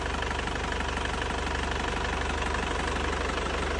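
A 2009 Isuzu Panther LS Turbo diesel engine idles steadily with a warm engine, giving a constant, even low rumble with a fine rhythmic knock, heard alone and close without any talking.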